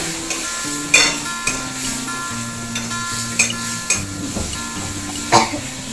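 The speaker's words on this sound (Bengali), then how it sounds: "জলটা না শুকানো পর্যন্ত আমরা এটাকে নেড়ে যাব" Long bean mash with turmeric and a pinch of sugar stirred in a pan as the water cooks off, with irregular scraping strokes over a low sizzle and steady background hum.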